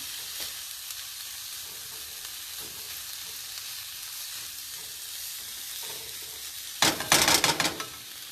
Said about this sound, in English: Keep giving it a bit of a stir. Let's add the black beans in there. Keep stirring.